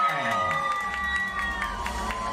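An audience applauds and cheers steadily as the new Miss Shumen 2024 is announced at a beauty pageant, a dense wash of clapping with shouts under a bright musical tone.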